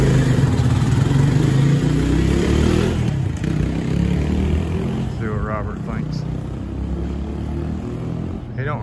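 A Lifan KPX 250 fuel-injected enduro motorcycle engine runs continuously and loudly, rough and clattering, with a voice speaking over it outdoors.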